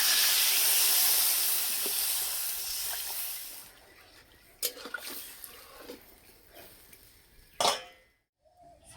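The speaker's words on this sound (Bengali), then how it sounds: "সিদ্ধ হওয়ার জন্য জল দিয়ে দেবো।" Water poured into a pan of frying potatoes and cabbage: a loud, steady hiss and sizzle at first, then it fades to softer crackles and a few sharp clatters near the end.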